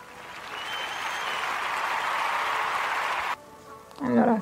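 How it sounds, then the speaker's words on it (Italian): A short burst of applause, steady clapping for a few seconds before it cuts off, followed by a voice speaking. "Allora sì, mini applausino così."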